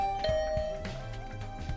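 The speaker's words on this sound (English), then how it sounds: "I rang Nozomi's doorbell, but there's no answer." Doorbell chime in The Hundred Line: Last Defense Academy video game, a couple of ringing tones over soft background music.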